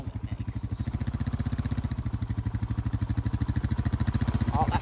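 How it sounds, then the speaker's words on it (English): A four-wheeler ATV engine runs close and loud on a cold day, its rapid, even pulsing chug holding steady throughout with no break. "Oh, that four-wheeler's too loud."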